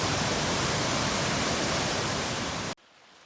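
A small waterfall in North Carolina woods near Daniels Ridge Creek, a steady close rushing hiss of falling water that cuts off abruptly near the end, with no voices.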